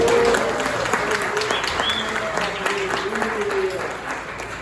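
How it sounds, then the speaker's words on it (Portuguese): Applause from a church congregation at a Carnival conference, honouring the keyboard player: a dense, steady wash of clapping that runs the whole stretch and eases slightly at the end, with faint voices and a sustained tone beneath. "Dê um aplauso para o nosso irmão tecladista"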